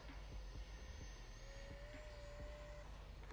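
Freewing 70mm F-22 Raptor RC jet with an electric ducted fan, climbing just after takeoff, a steady distant whine with a rising tone that holds over constant background rumble.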